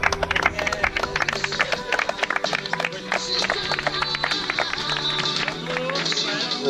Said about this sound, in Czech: Potlesk pro dámy z dnešní Boskovické.